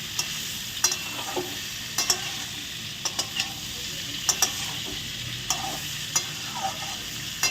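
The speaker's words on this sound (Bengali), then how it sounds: "লাল লাল করে আমি আলু আর পেঁপেটা ভেজে নিয়েছি" Potato and papaya sizzle steadily frying in a hot pan while a utensil scrapes and clicks against it in irregular stirring strokes.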